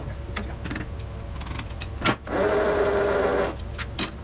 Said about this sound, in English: I'm gonna let the starter cool down a bit because that was that's way more than I wanted to crank on it